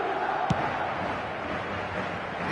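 A football stadium crowd on match day, a broad, distant roar of many voices, steady throughout, with one brief sharp knock early on.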